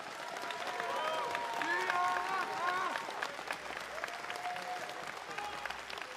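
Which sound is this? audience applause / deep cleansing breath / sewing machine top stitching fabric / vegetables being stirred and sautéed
audience applause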